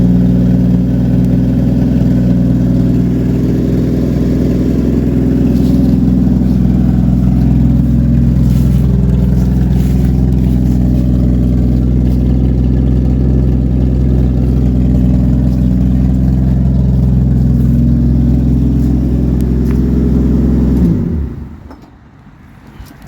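A car engine runs at a steady idle, close and loud, for about twenty seconds before abruptly shutting off into near silence.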